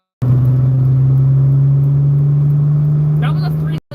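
A car launching from a 3,000 RPM clutch dump, heard from inside as a loud, steady low engine drone that holds for about three seconds, then cuts off abruptly, with a brief voice near the end.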